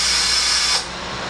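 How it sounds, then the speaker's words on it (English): A vacuum press holding a glued veneer panel on particle board makes a loud, steady airy hiss as air is drawn out of the glue and board. The hiss drops to a quieter level partway through. "Right now what you hear is the bubbles of air that are in the glue and in the particle board itself coming back out."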